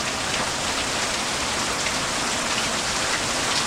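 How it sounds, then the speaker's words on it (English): Steady rain falling outside a workshop, a loud, even wash of dense patter on surfaces with no pauses and no other sounds. "Yeah, it's raining."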